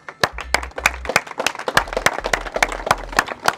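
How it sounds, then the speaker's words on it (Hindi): Loud applause from an audience at a Rajasthani stage comedy event, a burst of dense clapping lasting a few seconds with uneven peaks and no voices over it. "जोरदार तालियां।"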